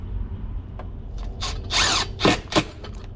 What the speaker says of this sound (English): Let's go ahead and mount this into place and secure our screws.